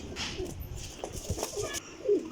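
Teddy pigeons coo softly nearby in short, low phrases, mixed with scattered clicks and rustling, and a brighter call near the end.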